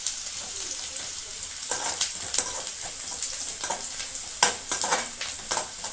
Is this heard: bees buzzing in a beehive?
no